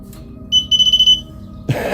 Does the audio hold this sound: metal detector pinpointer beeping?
yes